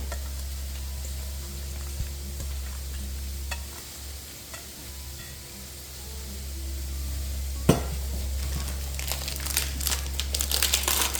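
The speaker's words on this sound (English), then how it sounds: "So first we're going to add our split peas that I've just washed and rinsed" Rinsed and drained split peas pour into a slow cooker, making a soft, faint crinkly rattle that grows busier and more scattered toward the end.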